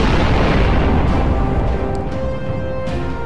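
A loud, sustained blast rumbles from a destroyed mecha's warp booster in the Sunrider space-combat game, a heavy explosion that roars continuously before easing slightly.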